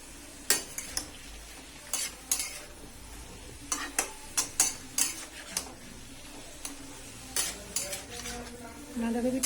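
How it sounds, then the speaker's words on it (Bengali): Cabbage frying in oil in a wok, a steady low sizzle broken by repeated sharp clinks and scrapes of a spatula stirring against the pan, with a rising hiss near the end. "বাঁধাকপিটা তেলে দিয়ে দেব।"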